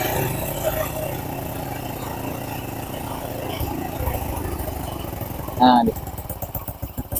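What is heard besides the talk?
Honda Blade motorcycle engine idling during carburetor adjustment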